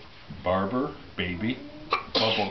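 A child's sneeze, a short sharp burst near the end, following a child's sing-song voice reciting alphabet words close up.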